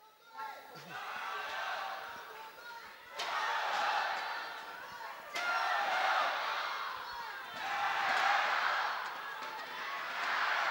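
The crowd at the All England Open badminton men's doubles final roars in repeated swelling waves of cheering and applause, loud and sustained, with sharp bursts at the start of each surge.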